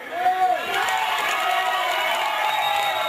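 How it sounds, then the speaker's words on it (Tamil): An outdoor crowd watching a Tamil village stage drama, the Valli Thirumanam play, claps and cheers loudly and continuously, close by, with voices and shouts mixed through the noise. "இப்ப கைத்தட்டுக்கு"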